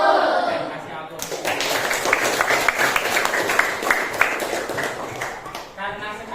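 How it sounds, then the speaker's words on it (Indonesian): A classroom group claps in a scattered burst of applause, a dense patter of hand claps that runs for several seconds at moderate loudness with voices mixed in. "kasih aplaus"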